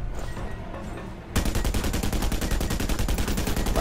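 Sentry guns firing in Just Cause, starting after a quieter stretch of ambient rumble with a sudden burst into loud, rapid, evenly spaced automatic gunfire that carries on steadily to the end.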